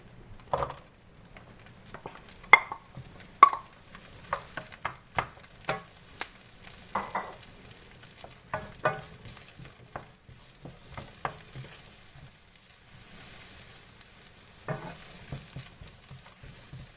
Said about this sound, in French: Et là, on va y mettre l'oignon.